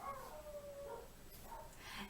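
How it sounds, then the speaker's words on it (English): Dogs howl outside, faint and distant, in drawn-out wavering cries with a couple of higher yelping rises, heard over quiet room tone. "my dogs are outside and they're going a little bit nuts"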